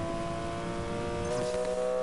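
A car accelerating hard at very high speed after nitrous is hit, a steady loud engine drone with strong sustained tones and no talk over it.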